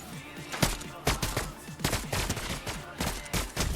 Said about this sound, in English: And they're shooting.